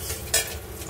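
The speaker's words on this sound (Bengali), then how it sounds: "দেখতেই পাচ্ছ একটুখানি পেঁয়াজগুলো একটুখানি গোল্ডেন ব্রাউন হচ্ছে।" Onions fry to golden brown in a pan, with a quick stir and a low sizzle and one short scraping burst in the middle.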